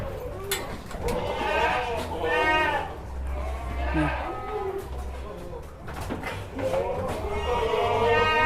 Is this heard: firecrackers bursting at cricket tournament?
no